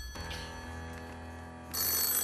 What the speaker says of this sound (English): We'll wait for him ringing.